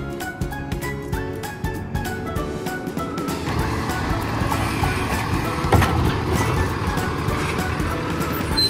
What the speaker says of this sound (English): Look how good they are driving around tight turns.